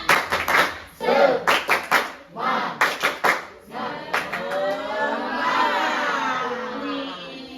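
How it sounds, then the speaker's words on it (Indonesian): A group claps a rhythmic spirit-clap pattern in a classroom-style session, several sharp synchronized bursts of claps followed by a sustained cheer and chatter from the crowd, loud and close. "Tepuk semangat."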